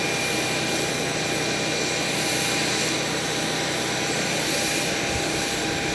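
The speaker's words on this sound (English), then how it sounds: "This jet's just about to leave" A jet's engines run loud and steady just before departure, a continuous broadband roar with a constant whine that fills the whole stretch without letup.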